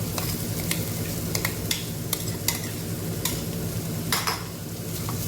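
A spoon stirs boiled potato into a sizzling potato curry in a pan, with soft intermittent scrapes and knocks over a low, steady frying hiss, close up and without talk.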